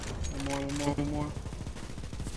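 Gunfire in CS:GO sounds as a rapid burst of sharp shots, close and loud, firing in a quick rhythmic string after a voice speaks over game noise.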